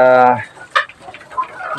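A heritage chicken gives a loud, drawn-out cluck up close in a backyard farm, followed by a few fainter, scattered clucks and farmyard noises.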